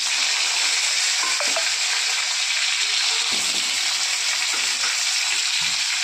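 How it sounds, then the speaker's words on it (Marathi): Cumin seeds frying in hot oil in a pan, a loud continuous crackling sizzle with a few soft taps and scrapes from stirring, close up and without speech. "सर्वात पहिलं जिरं तळून घेऊत आपण सगळं."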